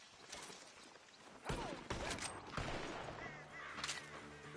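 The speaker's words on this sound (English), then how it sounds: "The gunshots are coming from that barn!" Gunfire bursts from a barn in the video game Red Dead Redemption 2: a rapid fusillade of cracking shots, fairly distant and echoing, with some mechanical clatter and no talk.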